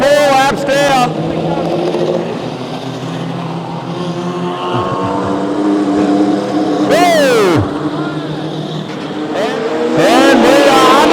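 Modified sedan race cars at the Archerfield clay speedway during the Firecracker 1000, engines roaring steadily with passing revs and doppler sweeps, under continuous loud race commentary.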